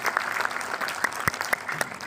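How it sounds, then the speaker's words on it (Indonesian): Seminar audience clapping warmly, a steady patter of many hands with a few sharper individual claps standing out nearby. "Baik, tepuk tangan yang meriah untuk Anda semua."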